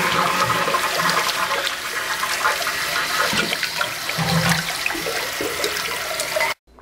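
A toilet tank refills after its water supply valve and hose have been replaced, giving a steady, loud rush of running water that continues almost the whole time before cutting off abruptly at the end.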